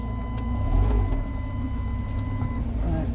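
A Rover 45 Impression S3 with a CVT gearbox hums at a low, steady idle with a faint whine as it is shifted into reverse. Light mechanical ticks sound close by.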